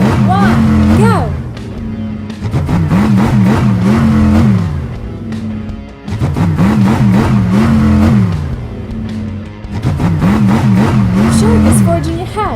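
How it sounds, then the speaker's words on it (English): Cartoon monster trucks launching at the start of a race, with loud engine revs swelling and dropping in repeated bursts of acceleration, one surge after another, with no speech. "The monster trucks are ready to start."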